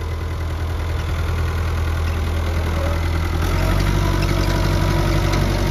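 An Oliver tractor engine idles nearby, a loud, steady low rumble with a faint knock that swells slightly near the end, and no talking over it.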